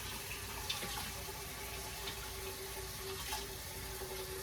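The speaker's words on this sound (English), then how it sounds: "put hot water in both pots for the manicotti as well as the jumbo shells." Hot tap water runs steadily into cooking pots being filled for manicotti and jumbo shells, a continuous even hiss of flowing water heard alone.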